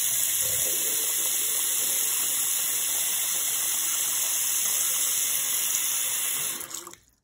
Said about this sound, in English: We turn the faucet and the water comes out like this.